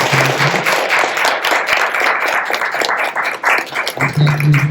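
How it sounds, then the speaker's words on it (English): An audience at a church forum claps together in a sustained, fairly loud round of applause that holds steady for several seconds. "let's give her a round of applause."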